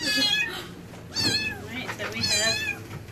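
Four wet kittens meow in a series of loud, close, high-pitched cries, repeated several times with short pauses, while people talk softly in the background.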